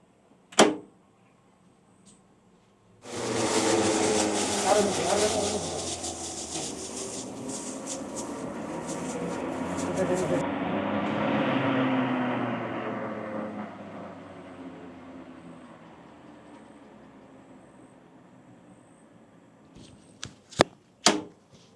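A machine controlled by an automatic on/off panel box starts with a sharp click and runs as a loud, steady whirring roar for about fifteen seconds, then winds down and fades; close clicks of the switching come before and after, with no talking.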